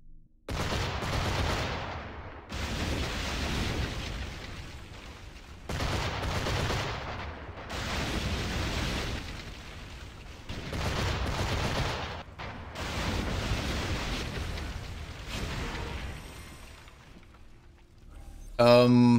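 Bursts of gunfire from the video game Assassin's Creed Rogue, loud and dense, coming in several separate volleys of two to three seconds each with short gaps between them.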